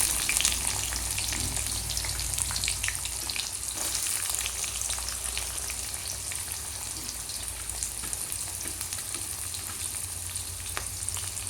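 Mustard seeds, cumin and onion fry in hot oil for kanda poha, a steady, dense sizzle with fine crackling and popping that runs continuously at close range with no voices.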